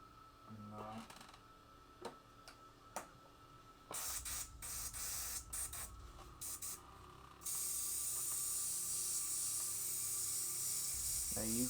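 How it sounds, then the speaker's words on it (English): Spray gun hissing in short bursts, then a long continuous spray of transparent clear coat close by, on a Harley-Davidson, with light clicks and handling noises between passes. "what I'm spraying on here is completely transparent"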